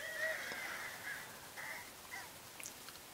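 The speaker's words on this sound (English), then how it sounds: "Let's shoot off our little skywalking bird." A cartoon bird squawks as it is launched in Angry Birds on an Android 4.1 Jelly Bean tablet. Short, faint, caw-like cries over a quiet hiss, with no voices.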